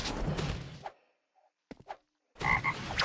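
Toad croaks from a toad ability in a Roblox Jujutsu Shenanigans game come as a few short, close, loud bursts separated by silence, with brief thuds and swooshes mixed between them.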